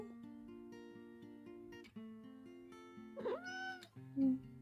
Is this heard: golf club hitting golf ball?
no